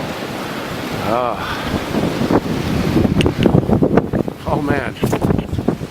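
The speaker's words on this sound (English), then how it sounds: "Hear the wind? Still blowing." Strong blizzard wind roaring and buffeting a nearby microphone in near whiteout conditions, loud and gusty throughout while someone talks over it.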